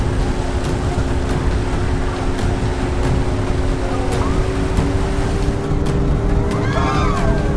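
A tour boat engine drones steadily at close range as the boat slows off Bruny Island, Tasmania, a low constant hum with water noise, while faint chirpy sounds rise near the end.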